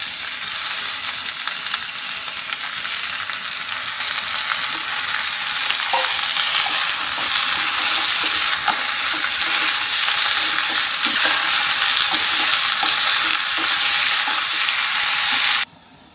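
Chicken pieces, washed with salt and turmeric, sizzle and crackle steadily in hot oil with shallots while being stirred for a Pallipalayam-style dish, a loud continuous fry with occasional scraping clicks from start to finish.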